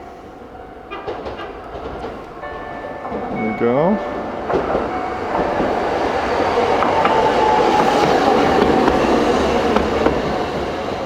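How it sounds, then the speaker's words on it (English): A Tokyo Sakura Tram approaches and rolls past at a crossing in Sugamo, Tokyo, building to a loud sustained rumble with rattling and a brief squeal; a person speaks briefly early on. "The train's coming."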